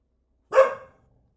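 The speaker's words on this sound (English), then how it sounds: "Oh, there goes the dog next door." A neighbour's dog gives a single short, sharp bark next door, heard alone against silence and fading quickly.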